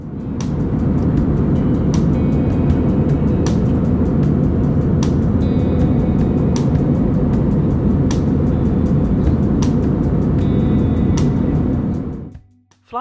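Steady, loud broadband roar fills a QantasLink regional jet cabin climbing away after takeoff from the city, with faint repeating clicks over the engine and air rush before the noise drops away near the end.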